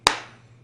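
A single sharp clap in a classroom, loud and close, with a short decaying tail and a faint steady hum behind it.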